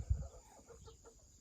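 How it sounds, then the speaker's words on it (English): A chicken near a coop clucks softly in the background, a few faint, short calls following a brief low thump, with no talking. "that's a chicken in the background if you're wondering."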